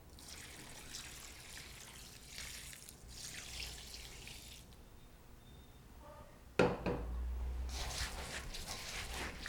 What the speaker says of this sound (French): Maintenant, il faut rincer le riz.